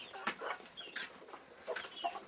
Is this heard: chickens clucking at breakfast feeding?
yes